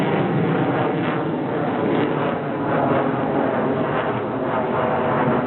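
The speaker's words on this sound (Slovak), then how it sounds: "teraz ste mohli doslova aj cítiť silu dvojice pohonných jednotiek RD-33" A MiG-29 jet fighter with twin RD-33 engines performs at an air show in Piestany, giving off a loud, continuous roar that swells and eases slightly without letting up.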